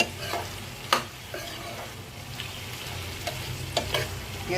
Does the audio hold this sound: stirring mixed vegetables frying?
yes